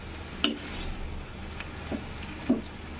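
Chow mein noodles with vegetables and chicken being stirred in a pan, a few soft clinks and scrapes of utensil on metal spaced apart over a low steady background, fairly faint.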